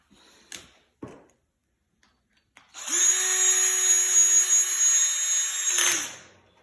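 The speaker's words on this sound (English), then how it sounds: "Now I'm just going to put the screw in." A power drill drives a screw into a Tuff Stuff PS-245 functional trainer, whirring steadily and loud for about three seconds, after a couple of short clicks and knocks.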